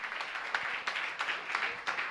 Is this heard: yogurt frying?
no